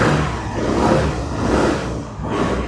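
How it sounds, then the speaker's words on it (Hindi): Suzuki Access 125 scooter, 2026 model with single-channel ABS, revving close up, its exhaust note rising and falling in steady surges. "अब भाई इसका एग्जॉस्ट साउंड भी सुन लेते हैं हम लोग"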